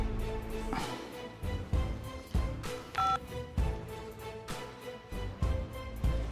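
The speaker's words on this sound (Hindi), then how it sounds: "मनोहर को फोन करते।" A quick series of telephone keypad tones as a number is dialed, short beeps in an uneven rhythm over a low background hum.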